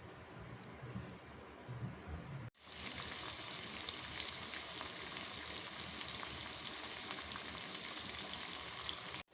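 Paneer pieces fry in butter with a steady, dense sizzle that fills the whole stretch. A short break cuts in near the start, then the crackle returns louder and continues unbroken.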